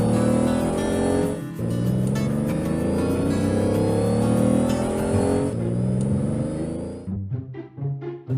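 Repaired cartoon cars and trucks being driven, with a loud continuous engine drone and revving that runs for several seconds before dropping off into scattered quieter noises, no talk.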